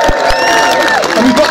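Loud crowd at a street rally cheering and clapping, a dense roar with scattered whistles and shouts close and continuous throughout.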